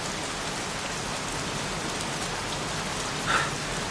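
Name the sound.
heavy rain falling in the video game Heavy Rain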